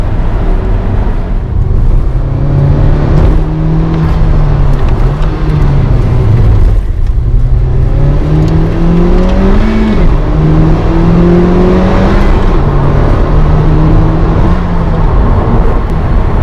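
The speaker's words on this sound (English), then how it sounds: "then you get a slight dump valve as well, which sounds awesome" A turbocharged Honda Civic Type R FK2 accelerates hard and loud with a steady rising engine drone through several gear changes, and a faint dump-valve release is heard between them.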